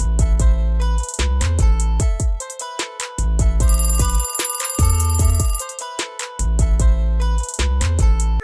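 A telephone rings loud and close in repeated electronic ringtone bursts, with short gaps between each ring.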